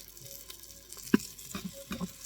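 Oxtails fry in oil in a pot, giving a close, quiet crackling sizzle dotted with a few sharper pops and spits, with no talking.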